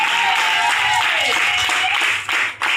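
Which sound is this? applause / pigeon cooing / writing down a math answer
applause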